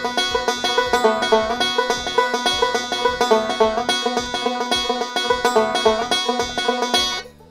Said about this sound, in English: it's an alternate thumb roll, a thumb 1 thumb 2